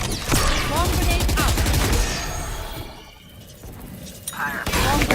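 Valorant swarm grenade ability during a VCT EMEA pro match, loud bursts of rapid popping and gunfire crackle, fading midway and then flaring again, with excited commentary over it.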